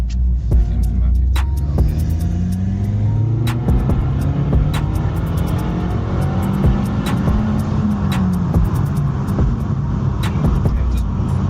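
A tuned Nissan GTR engine running on a dyno, a loud sustained throbbing rumble with pitch rising and falling through the pull, sharp ticks overhead and voices faintly beneath.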